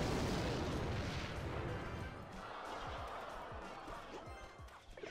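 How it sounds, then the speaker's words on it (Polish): A rocket spell blasts in the Clash Royale mobile battle game, a loud booming explosion that rolls off into rumbling debris and scattered smaller thumps, with a voice speaking over parts of it. "Dobra, jest rakieta."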